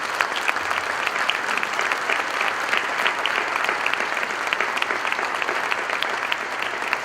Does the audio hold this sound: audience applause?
yes